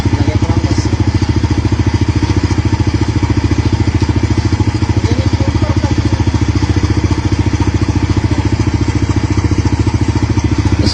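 A motorcycle engine fitted with a newly bought spark plug idles loud and close, its rapid, even pulsing and light mechanical clatter running steadily and unchanged for about eleven seconds.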